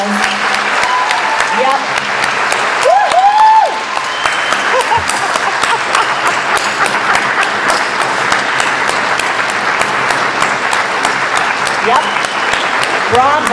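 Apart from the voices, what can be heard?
audience round of applause at memorial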